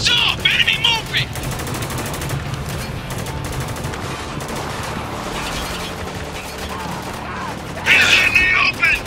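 Sustained gunfire fills a Spec Ops: The Line firefight, with rapid bursts rolling throughout, a sharp crackling volley at the start and another near the end, under shouted squad callouts.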